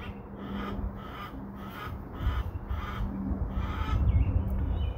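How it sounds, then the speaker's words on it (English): A series of about six repeated harsh squawking calls at a steady rhythm, moderately close, over a low background rumble. "If you can hear them, my chickens are squawking."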